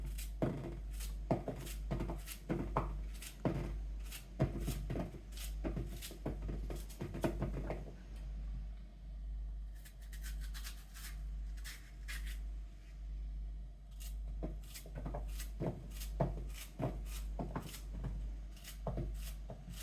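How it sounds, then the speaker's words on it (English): Green plantains sliced up with a knife on a cutting board, giving sharp repeated chopping taps in quick bursts, a quieter pause in the middle, then another run of close, crisp cuts. "I'm doing two green plantain. So I'm gonna cut them up."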